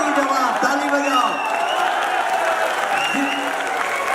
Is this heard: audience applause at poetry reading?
yes